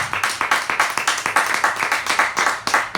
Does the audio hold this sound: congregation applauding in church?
yes